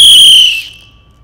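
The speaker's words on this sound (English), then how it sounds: "hear the whistle for the homework" A survival whistle gives one loud, shrill blast of about half a second, its piercing tone cutting off sharply and leaving quiet behind.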